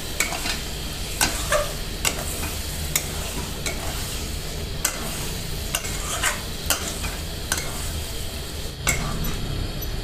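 Boiled bottle gourd is stirred with spices in a pan over a soft sizzle, a metal spatula clinking and scraping against the pan in frequent sharp strokes, close by with no voices.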